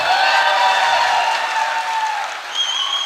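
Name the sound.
audience applause for a dancer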